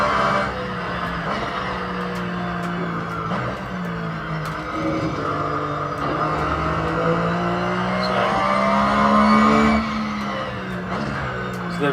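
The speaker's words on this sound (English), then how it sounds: "you find that the car locks up and you skate past the apex" Racing car engine drones steadily in Assetto Corsa on Xbox One X while locked-up tires squeal and skid in long screeches, engine pitch rising and falling.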